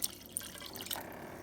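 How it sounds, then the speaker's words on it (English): Tap water running and dripping into a pot holding two pounds of dry beans, a soft close trickle with small splashes, fairly quiet and steady for a moment. "just got it in a pot, and I'm filling it with some water"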